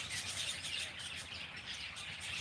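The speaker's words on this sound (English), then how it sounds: "All kinds of birds around here." A steady, busy chorus of assorted birds tweeting and twittering outdoors, moderately distant and without any talking.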